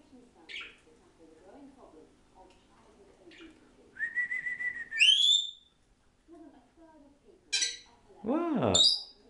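A Senegal parrot calls loudly indoors, with rising whistles and harsh squawks in bursts separated by quieter chattering and rustles.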